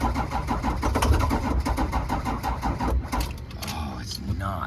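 A diesel engine cranks without starting, the starter churning in a rapid, rhythmic, laboring chug that stays close and loud throughout, with brief talk at the end.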